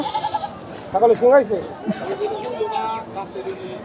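Crossbred goats bleat in short, wavering cries close by at a weekly livestock market in Dhamrai, several calls overlapping with faint crowd chatter in the background.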